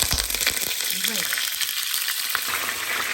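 Meat sizzling in hot oil in a pot, a loud, dense, continuous crackle and hiss that runs without a break from start to finish.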